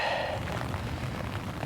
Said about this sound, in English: Taking a bit of shelter from the rain, eh?